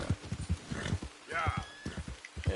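Video game horse hooves clop in a quick rhythm with a brief whinny in the middle, accompanied by some faint voice sounds.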